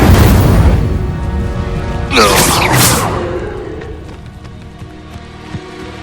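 Incendio fire spell cast in the Hogwarts Legacy video game, a loud bright whooshing burst about two seconds in, lasting roughly a second, over a rumbling game backdrop with faint thuds afterward.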